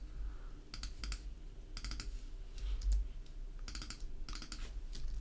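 Short bursts of quiet keyboard key clicks and mouse clicks during shift-clicking in After Effects, coming in several separated clusters against a faint background hum.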